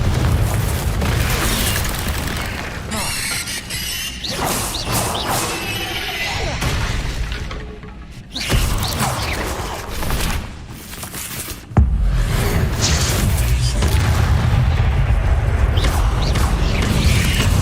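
Confringo blasting-spell explosions in the video game Hogwarts Legacy: loud, dense booms and crashing bursts follow one another almost without pause, with a brief dip before a sharp blast that leads into a sustained roar.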